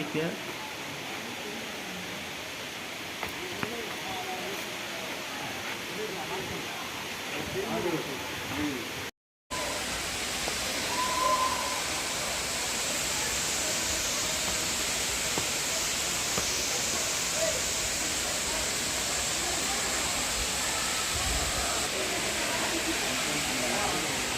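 Agaya Gangai waterfall in the Kolli Hills, dropping from nearly 300 feet, gives a constant broad roaring hiss that fills the whole span. Faint voices sit beneath it early on, and the sound briefly drops out partway through.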